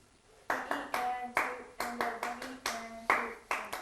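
One volunteer claps out the next rhythm measure in a music class, about a dozen crisp, close claps in a syncopated pattern over a quietly counting voice.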